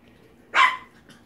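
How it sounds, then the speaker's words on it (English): A single short, high yip from a puppy after its first feeding, close by, in otherwise quiet surroundings. "Now they're starting to bark"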